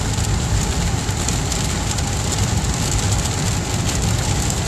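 Heavy rain falls steadily in a dense, continuous hiss, loud and unbroken throughout, with no voices present.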